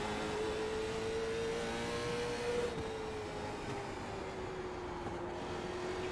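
A late model race car engine in the iRacing game at South Boston drones continuously at high revs, its pitch holding and then dipping slightly as it eases, loud and steady with no talk.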